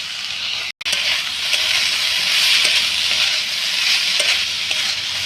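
Chopped chillies fry with soybeans and potatoes in a hot pan, giving a loud close continuous sizzle and hiss with stirring scrapes and one brief break near the start.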